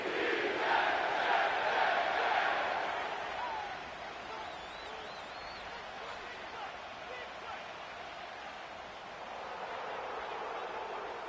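A stadium crowd roars in an EA Sports football game set at MetLife Stadium in East Rutherford, New Jersey. The cheering is loud for the first few seconds, then settles into a steady, fainter murmur with voices over it.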